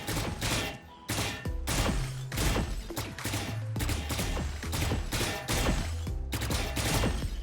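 Rapid video game gunshots in the Valorant firing range, a string of sharp loud cracks in irregular bursts of single and double shots, fired at practice bots.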